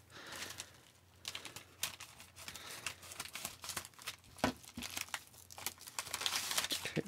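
Crinkling paper and plastic rustle in short bursts, with scissor snips and tearing sounds as a mail package of hockey cards is opened up close.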